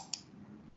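A single faint, quick mouse click on a computer, heard once near the start against quiet background hum.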